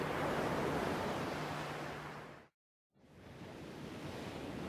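Rough sea surf off a Sardinian beach on a grey, windy morning roars as a steady broadband wash with wind noise, cut by a brief total silence before the crashing noise resumes.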